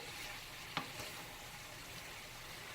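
Chicken with green chilies and carrots fries on high heat in a pan, giving a steady, even sizzle throughout with one brief clink near the start and no voices.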